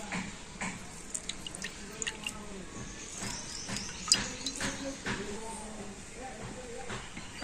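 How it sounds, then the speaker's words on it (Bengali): Half a lemon is squeezed into a bowl of water while preparing a spicy snack, giving faint, scattered drips and soft splashes over a low, steady background. "তো এই অর্ধেক লেবুটা আমি এখন জলের মধ্যে দিয়ে দেব"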